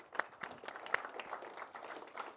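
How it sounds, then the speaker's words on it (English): A small crowd at a live football session at Boxpark Wembley claps for a boy player, a scattered, fairly quiet round of applause with separate hand claps standing out. "Give him a big round of applause."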